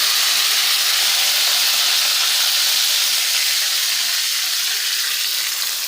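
A spoonful of mustard seeds and fenugreek with curry leaves hits hot oil, giving a loud, dense, steady hissing sizzle close by that eases slightly toward the end, with no talk.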